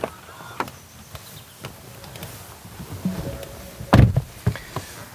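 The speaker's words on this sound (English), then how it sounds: "You're admitted via a weird door e-latch." Electric e-latch door of a 2021 Ford Mustang Mach-E releasing and opening, heard as a short motorised whir followed by a sharp clunk and a few light clicks, close and clear with no talking.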